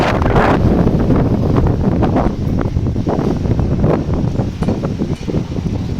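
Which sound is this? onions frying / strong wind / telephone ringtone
strong wind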